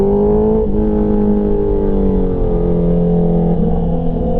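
A 2024 Honda CBR650R motorcycle cruising along the Côte Vermeille coast road, its engine holding a steady, loud drone with a brief shift in pitch early on, with constant wind rush and no talking.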